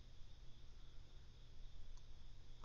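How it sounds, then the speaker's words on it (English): Crickets chirp in a steady, continuous high drone early in the morning before dawn, a constant insect trill that carries through the whole stretch with no voices. "Yeah, the crickets."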